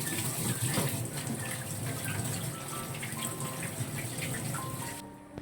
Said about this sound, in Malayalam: അപ്പം നമുക്കിതൊന്ന് നന്നായിട്ടൊന്ന് കഴുകിയെടുക്കാം കേട്ടോ.